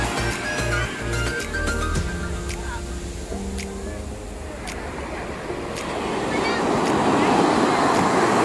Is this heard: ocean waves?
yes